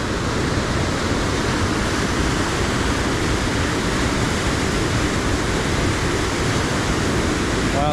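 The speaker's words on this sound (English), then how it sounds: "Wow, that thing is blasting out water." A waterfall at Hidden Falls blasts out water in a loud, continuous, close roar that stays constant from start to finish, with a faint voice creeping in at the very end.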